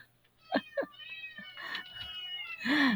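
A large group of cats meowing at feeding time indoors, several short close meows followed by overlapping longer cries and a loud drawn-out wail at the end, with faint voices in the background.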